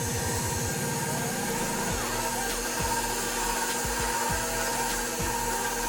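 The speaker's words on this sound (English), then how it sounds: "So it says to whisk on the electric mixer on medium." An electric mixer on medium whisks brownie batter, giving a steady motor whine throughout, with low rhythmic pulses at the start and occasional clunks as the beaters knock the bowl.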